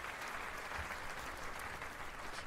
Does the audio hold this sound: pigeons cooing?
no